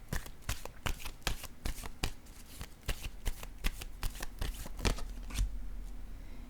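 Tarot or oracle cards shuffled and cut for a reading, a rapid series of crisp riffling slaps and flicks in a steady rhythm, close and fairly quiet, with no talking.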